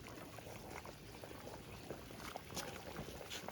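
Bograch stew bubbling in a cauldron over an open campfire, a steady low rolling simmer with scattered pops and gurgles, moderately quiet and continuous throughout with no talking.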